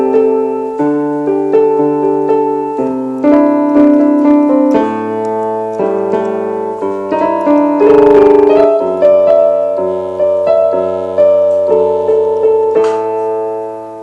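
A solo piano plays a song, sustained chords under a flowing melody line, loud and full, with a brief noisy burst in the middle and no voices.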